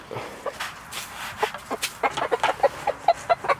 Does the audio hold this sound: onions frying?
no